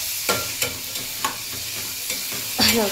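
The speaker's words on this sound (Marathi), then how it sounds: "तर हे बघा, मी इथे कांदा टाकून घेतलेला आहे" Onion fries in a little oil in a pan, a steady close sizzle broken by repeated soft scraping stirs and a clatter at the end.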